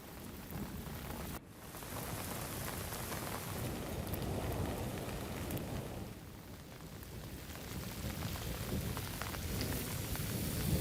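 Heavy, steady rain pours down during a monsoon-season storm in Himachal Pradesh, a dense continuous roar of water hitting surfaces with a brief dip near the start and no speech.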